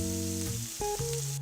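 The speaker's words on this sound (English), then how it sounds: "So that garlic and shallot that we diced in, we're gonna go ahead and put it right here in this beautiful skillet here" Diced garlic and shallot sizzle in a skillet with a continuous close, bright hiss, while steady sustained tones run alongside it.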